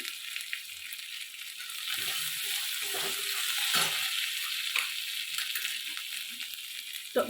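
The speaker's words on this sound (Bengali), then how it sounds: "ভালো করে মশলাটাকে কষে নেব সামান্য পরিমাণে হিং দিলাম" Spice masala with Kashmiri chilli powder and a pinch of asafoetida frying in a pan for vegetarian jackfruit curry, a steady close sizzle with scraping stirs throughout.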